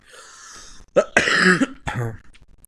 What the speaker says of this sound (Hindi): सुबह सुबह खांसी हो गई।